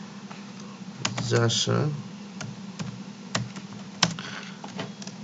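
Clicks of a computer keyboard being typed on during a PowerPoint slide-editing session, a short run of light keystrokes with a speaking voice over and between them.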